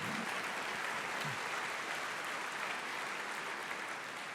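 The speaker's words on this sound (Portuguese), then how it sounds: "Pode aplaudir o Senhor." A church congregation claps together during a sermon, a steady, fairly soft wash of hands that holds evenly for a few seconds and sounds slightly distant.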